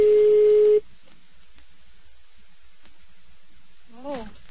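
Telephone line during a prank call: a steady electronic tone for under a second, then a quiet line with faint background and a brief voice near the end.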